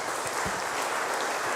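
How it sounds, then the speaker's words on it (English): A seated audience at an archdiocesan synod talk show gives a round of applause for the Cardinal, a broad, even wash of clapping throughout. "a round of applause to Cardinal"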